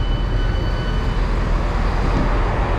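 Great Western Railway train pulling into Bristol Temple Meads, a loud steady low rumble and rolling rail noise heard from on board, continuous throughout with no speech.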